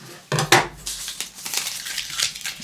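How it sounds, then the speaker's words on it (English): Scissors cut through fabric for a homemade bow tie, giving a few close, crisp snips and crinkling rustles, the loudest near the start, followed by softer handling noise. "we'll place them on the fabric and cut out the fabric as well. So just carefully cut round, like so."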